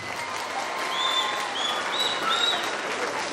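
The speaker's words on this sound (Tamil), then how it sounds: "தல ரசிகர்லாம் கைதட்டுங்க" A school annual day audience bursts into steady, sustained applause, fans clapping together in a large crowd, with a few high whistles cutting through the even roar.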